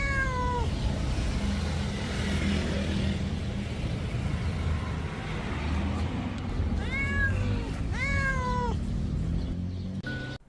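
A caged cat meows several times, drawn-out cries near the start and then a cluster of rising and falling meows toward the end, over a steady low rumble.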